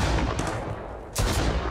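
Gunfire in the survival video game Mist Survival, heard as two loud, sharp shots about a second apart over a dense rumbling background, with no talking.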